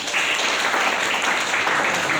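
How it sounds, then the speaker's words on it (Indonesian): Classroom applause for a student in a biology lesson, a brief, dense burst of clapping from the class that stays even and fairly loud throughout. "Iya, tepuk tangan Mbak Cipran."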